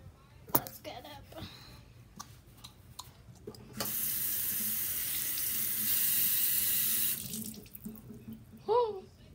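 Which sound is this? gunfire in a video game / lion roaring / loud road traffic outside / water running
water running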